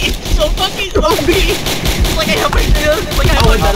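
Rapid machine gun fire from an MG in the Roblox game Entrenched, a steady loud stream of sharp repeated shots with other battle noise and voices talking over it.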